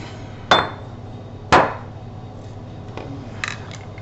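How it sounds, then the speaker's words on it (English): Two sharp, ringing metal strikes about a second apart as a snap setter is hammered on a small metal anvil to set leather snaps, then fainter taps and handling noise. "Get out my snap setter, and I'm going to start setting some snaps"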